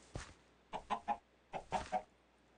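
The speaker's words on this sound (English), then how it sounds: "look at my chickens. Oh, they're doing good. Oh, and they're laying eggs." Chickens in the video game Minecraft cluck in short bursts: a single cluck, then a quick run of three, then another group of three, clear and close with a quiet background and no talking.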